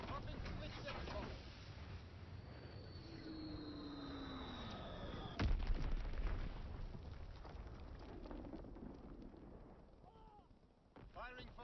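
Artillery barrages and explosions in the Call of Duty WW2 game, with a sustained rumble, a falling whistle and one sharp loud boom midway, layered under a radio-style voice.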